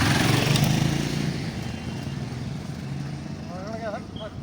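Motorcycles of a group of bikers ride past on a mountain road near Koksar on the Rohtang route, engines droning loudly and steadily close by before fading, with someone talking over them.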